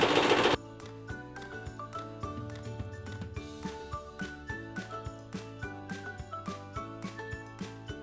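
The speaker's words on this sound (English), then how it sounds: "pressure foot down, and continue sewing." A sewing machine stitches a leaf-shaped jelly roll fabric placemat in a fast, even run of mechanical ticks after a brief noisy burst at the start, close and alone.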